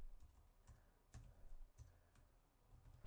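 Computer keyboard typing text into an editor, a few quiet, irregular key clicks and taps close by against a faint room background, with no talking.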